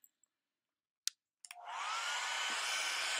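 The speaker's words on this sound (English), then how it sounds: "You could sit around with your blow dryer blowing." A few faint clicks, then a hair dryer switches on and blows steadily with a loud, continuous whooshing rush.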